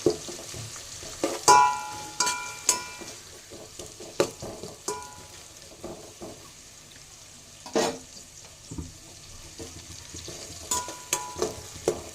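Green chilli is stirred into vegetable rice in a pan with sharp, irregular spatula scrapes and clinks over a light background sizzle, close by, no voices.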